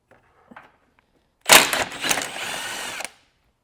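Power tool removing 13mm nuts below a bumper beam: faint taps and handling noises, then one loud, close burst of buzzing, rattling impact-style spinning lasting about a second and a half before stopping.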